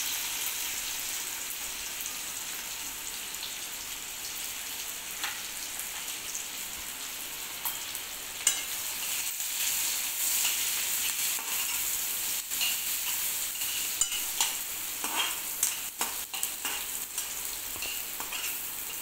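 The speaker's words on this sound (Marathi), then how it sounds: "तेल गरम झालं आहे, त्यामध्ये कांदा परतून घेऊया।" Onion fries in hot oil, a continuous crackling sizzle with patter like rain on a surface, growing slightly busier over time, with occasional sharper pops and stirring scrapes and no talking.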